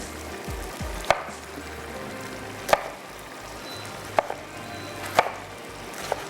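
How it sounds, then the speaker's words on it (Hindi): A knife chops eggplant on a board with about five spaced, sharp knocks over a steady background sizzle of food frying in a pan. "बस मैं ये बैंगन अच्छे से काट के इसमें ऐड करती हूँ"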